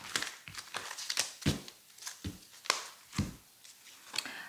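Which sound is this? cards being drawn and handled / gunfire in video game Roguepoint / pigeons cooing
cards being drawn and handled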